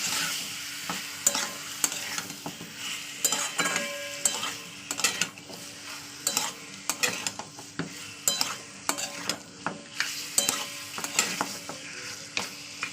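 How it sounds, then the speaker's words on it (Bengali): Meat sautéed with flour in a pan for a Bengali lau mangso kosha, a busy sizzle broken by repeated scraping and clanking of a spatula against the pan in a steady rhythm, close and fairly loud, no voices. "মজার সঙ্গে মাংসগুলো ভালো কষিয়ে নেবো দু থেকে তিন মিনিট আমি কষে নিচ্ছি"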